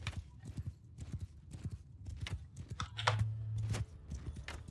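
Cavalry horse hooves from the video game Mount & Blade 2: Bannerlord clatter in quick, uneven clip-clop beats, several horses galloping together at moderate volume with a brief low rumble partway through.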